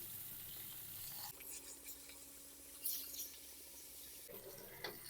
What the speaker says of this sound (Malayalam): ഇനി നമുക്ക് മീനൊന്ന് മീഡിയം ടു ലോ ഫ്ലെയിമിൽ വെച്ചൊന്ന് വറുത്തെടുക്കാം